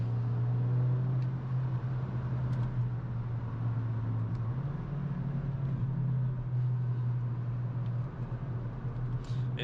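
A rebuilt VW Golf 5 GTI with a DSG gearbox driving on a private road, heard from inside as a steady low engine drone that rises slightly in pitch midway, over road rumble, with no talking.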